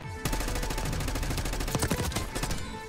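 Rapid automatic gunfire from a Call of Duty Black Ops 6 beta match rattles loudly and continuously in fast bursts, close and dense, with game sounds mixed in.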